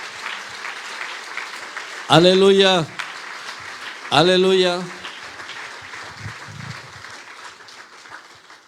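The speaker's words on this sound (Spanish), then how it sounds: "Denle un aplauso fuerte al Señor." A church congregation clapping for the Lord at a Spanish-language service, a moderate wash of applause running underneath while a man twice calls out loudly over it.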